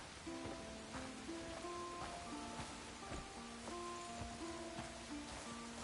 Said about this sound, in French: Et maintenant il pleut.